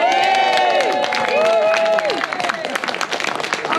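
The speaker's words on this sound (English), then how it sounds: "stand up and a round of applause for them" An audience applauds and cheers for singing waiters, dense clapping filling the room, with whoops and raised voices over it that give way to a thick patter of hands.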